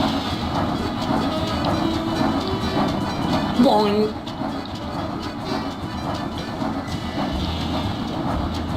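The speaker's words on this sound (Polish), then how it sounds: "Im dalej dochodzimy, tym pociąg jedzie szybciej." A train running in the video game Reksio i Kapitan Nemo, a steady rumbling rattle with clickety-clack that carries on throughout, with a brief tonal chirp partway through and speech-like sounds faintly mixed in.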